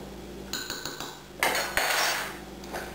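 A long-handled teaspoon clinks and scrapes against a deep container while sugar is stirred into eggnog, a run of bright metallic taps building to a busier rattle near the middle.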